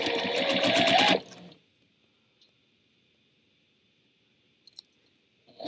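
A sewing machine stitching quilt pieces with a true quarter-inch seam runs in a fast, steady whir for about a second, then stops, leaving near silence with a couple of faint clicks.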